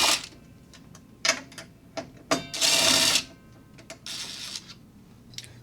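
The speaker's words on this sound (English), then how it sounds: "switch to a T20 to get the wire cover off" Torx T20 screwdriver undoing screws on the plastic wire cover of a DeWalt DW716 XPS miter saw, with a series of close, sharp clicks, ratcheting bursts and plastic rattles separated by short pauses.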